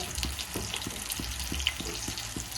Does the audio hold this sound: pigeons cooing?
no